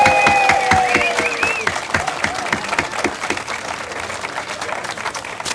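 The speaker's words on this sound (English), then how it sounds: "let's give a big round of applause to the OHS pep band" Outdoor crowd applauding a high school pep band at a dedication event, steady dense clapping as the band's last brass notes fade at the start.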